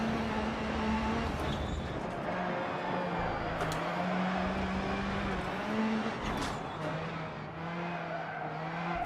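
Rallycross car engine in a racing video game, a steady droning, shifting note with occasional tire skids as it runs a lap, loud and continuous without talk.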